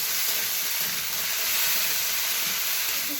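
Shukto vegetables stir-fry in a pan with salt, making a dense, continuous hiss of frying that stays steady and close throughout.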